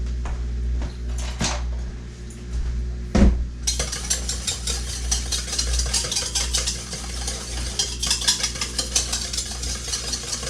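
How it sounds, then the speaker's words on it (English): A whisk stirs a mixture in a bowl for a steak recipe, a few clinks early on, then a steady brisk scraping and rattling that runs close and continuous over a low hum, with no talking. "And get a whisk. Give this a stir."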